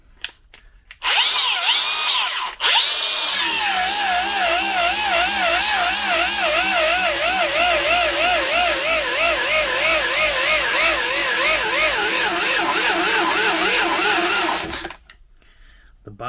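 A Bauer brushless angle grinder whines loudly and steadily at high speed with a wavering, warbling pitch, starting after a brief rev and cutting off near the end.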